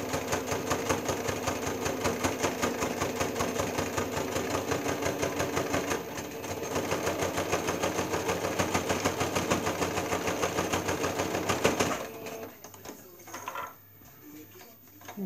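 A sewing machine stitches a pocket with a fast, steady mechanical chatter that runs close and loud for about twelve seconds, then stops. Brief fabric handling and faint movement follow.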